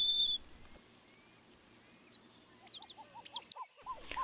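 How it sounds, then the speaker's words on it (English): Songbirds such as orange-crowned warblers, golden-crowned sparrows and dark-eyed juncos calling near a lake: a thin whistled note, then scattered chirps and short trilled phrases from several birds over faint background hiss. "home to many different songbirds, such as orange-crowned warblers, golden-crowned sparrows, and dark-eyed juncos"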